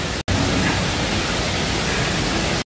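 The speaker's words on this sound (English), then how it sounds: "We're watching you eat pizza with the waterfall making it hard to hear." Loud, steady broadband rush of a waterfall filling a livestream, continuous and close, with a brief dropout near the start and no voices audible.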